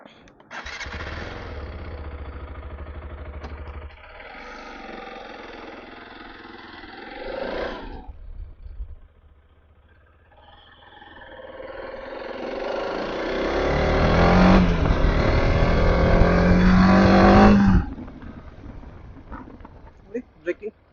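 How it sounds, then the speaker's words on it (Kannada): An RTX 300 motorcycle idling and then revving up as it pulls away on a test ride, the engine loud and close with a rising drone, a pause, then stronger acceleration; a voice is heard over parts of it. "ಸೊ ಈಗ ಈ ಗಾಡಿನ ಇನ್ನೊಂದು ರೌಂಡು ಟೆಸ್ಟ್ ಮಾಡೋಣ ಬನ್ನಿ."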